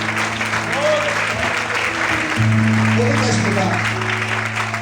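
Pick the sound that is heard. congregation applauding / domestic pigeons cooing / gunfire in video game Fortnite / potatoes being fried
congregation applauding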